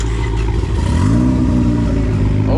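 A Dodge SRT Hellcat's engine rumbles loudly and steadily at close range, with rising revs over a deep low drone and a brief voice murmuring beneath.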